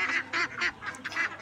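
Farm ducks honk in a run of loud, close calls, several nasal squawks following one another with brief gaps between them.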